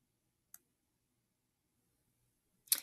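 A computer mouse gives two faint, crisp clicks in a near-silent room, one early and a slightly louder one near the end, with no talk.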